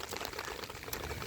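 Rainwater gushes steadily out of a French drain outlet lid that has popped open on its own, a continuous near splashing and bubbling rush with no pauses.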